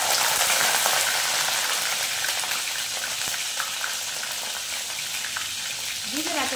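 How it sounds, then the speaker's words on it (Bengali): Green beans fry in hot oil, a loud, dense crackling sizzle that stays steady throughout, slightly easing toward the end, with a brief stirring scrape near the close. "বন্ধুরা, এখানে বিনস গুলো আগে ভেজে নিচ্ছি।"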